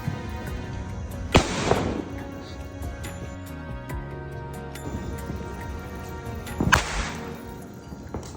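Firecrackers burst during Kali Puja celebrations: two sharp, loud bangs about five seconds apart, each with a short crackling tail, over a low background murmur.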